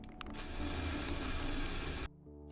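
Hairspray hisses from a can into the back of a PVC potato cannon in H3VR, a single loud, steady spray burst lasting about two seconds before cutting off abruptly.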